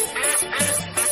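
A toy duck gives short repeated quacking squeaks, loud and close, in a quick uneven series with no talking.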